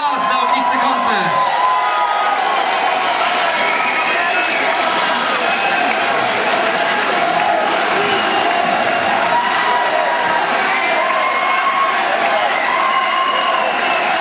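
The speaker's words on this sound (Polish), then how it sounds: "oklaski jeszcze raz za ognisty koncert" Festival crowd at a 2005 music festival applauds, cheers and whoops after a rock concert: a loud, dense, unbroken roar of clapping and shouting that fills the whole stretch with no break.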